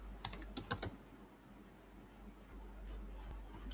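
Keys on a computer keyboard clatter in a quick burst of typing near the start, with a second short flurry at the end and a quiet pause between, entering a question into a Google Forms survey.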